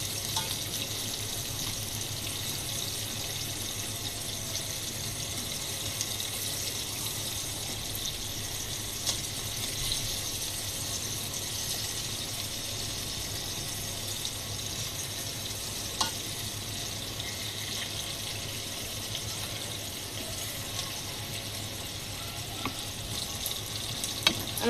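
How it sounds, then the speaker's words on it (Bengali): Tilapia fish fry in oil inside a rice cooker, a steady close crackling sizzle that holds evenly throughout with only tiny pops and no voices. "আমি মাছগুলো এখন ভেজে নিব।"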